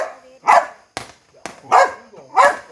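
Dogs barking outdoors on an evening of backyard fireworks, with four sharp barks in an uneven rhythm, fairly close and loud, and brief thumps between them.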